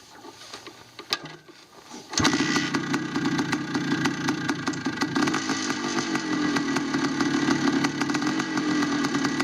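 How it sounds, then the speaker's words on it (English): A vintage motorcycle engine fires up after a few quiet seconds of background noise, then runs at a steady, buzzy idle, close and moderately loud. "if we could hear that bike run"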